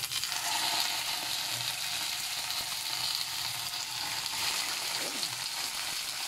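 Tambakol (tuna) frying in hot oil gives a steady, close, bright sizzle with a constant hiss and faint crackles. A few soft stirring scrapes run underneath, with no talking.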